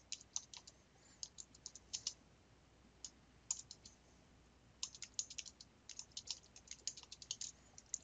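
Someone taps on a computer keyboard, naming a new registration entry in business software, with quick bursts of light clicky keystrokes separated by short pauses, close and fairly quiet.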